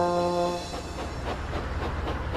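James the steam locomotive rolls across open countryside, a steady rail rumble with rhythmic clatter and a brief tonal whistle-like hum at the start, continuous and fairly close.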